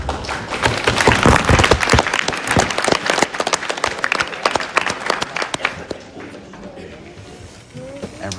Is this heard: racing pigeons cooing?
no